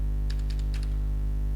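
Several quick keystrokes tapped on a computer keyboard, a short close burst of light clicks over a steady low electrical hum, with no talk.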